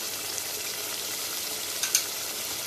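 Chicken white karahi masala fries and is stirred in a pan, giving a continuous bright sizzling hiss with a brief clink of a utensil near the end and no voices.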